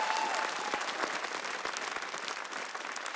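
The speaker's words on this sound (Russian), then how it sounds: "Аплодисменты, Паша." Audience applause at a Russian TV show, a dense steady patter of many hands clapping close by, filling the moment alone with no talk over it.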